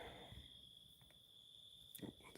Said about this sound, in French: Ah, le moustique.